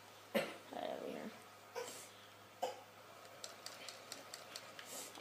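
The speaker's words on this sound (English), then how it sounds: "Every time I cough, he coughs." Several coughs from people sitting around a Plants vs Zombies Garden Warfare game, a sharp burst near the start and two more spaced out after it, moderately close, over faint background game noise.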